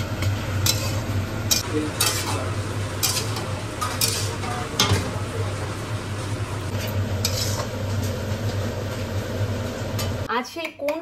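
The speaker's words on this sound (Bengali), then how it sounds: "আর এখানে চিকেনের সমস্ত কিছু ফ্রাই হচ্ছে" Chicken frying in a pan, a steady close sizzle running for about ten seconds, broken by scraping stirs and the clink of utensils against the pan until it cuts off near the end.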